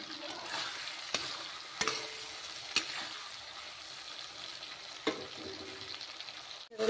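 Rohu fish curry with masala bubbles and sizzles quietly in a frying pan. A spoon scrapes and stirs in a few distinct strokes, followed by a louder clatter at the end.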